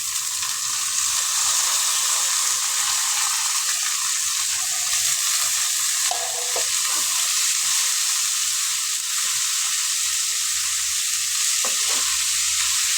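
Finely chopped broad beans stir-fried with browned onions in a pan, a continuous bright hiss of frying with a few scraping utensil strokes partway through, no voices.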